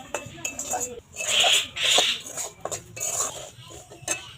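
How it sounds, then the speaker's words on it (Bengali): Semolina being dry-fried for sitabhog sweets, stirred in a pan with a spoon that scrapes and clinks against the metal in uneven bursts, close and fairly loud. "এটা ভালোভাবে কিন্তু একটু ভাজা ভাজা করা লাগবে, যাতে এর কাঁচা গন্ধটা না থাকে।"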